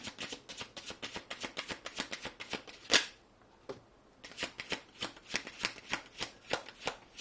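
Tarot cards are riffled and shuffled in quick rhythmic bursts, a short pause, then steady shuffling resumes close up.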